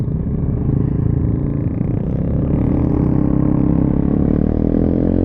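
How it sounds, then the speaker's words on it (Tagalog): A Vespa scooter with a loud aftermarket exhaust rumbles close by at a downtown street event, its engine note rising steadily as it pulls away, with a constant raspy drone throughout. "maingay yung exhaust ni Jeff"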